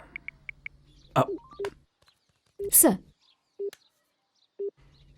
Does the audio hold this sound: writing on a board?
no